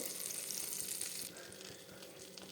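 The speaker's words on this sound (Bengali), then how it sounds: "কিন্তু আমি বাটার দিচ্ছি ফোড়নে দেবো গোটা জিরে" Whole cumin seeds sizzle in melted butter in a non-stick pan, a soft, steady crackling hiss heard up close.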